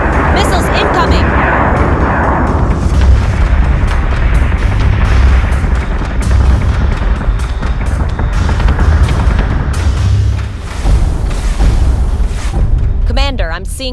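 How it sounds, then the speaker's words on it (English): Incoming missiles explode in a space battle in the video game Battlestar Galactica Deadlock. Heavy, rumbling booms roll over one another under constant dense noise, loud and close, while voices speak through the barrage. "Missiles incoming!"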